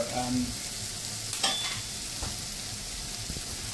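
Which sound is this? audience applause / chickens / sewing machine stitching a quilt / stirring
stirring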